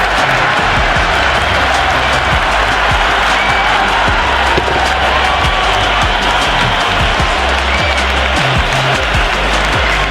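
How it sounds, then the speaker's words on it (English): A stadium crowd in the Cricket 26 video game gives a dense, continuous roar of cheering and applause, loud and steady throughout with no talk over it. "The atmosphere is electric. You can really feel the buzz around the spectator areas."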